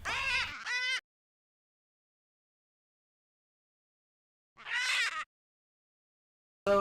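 Parrot sounds from the game Ultimate Custom Night: three short, bright, squawking calls with wavering pitch, separated by silence, the last cut off at the end.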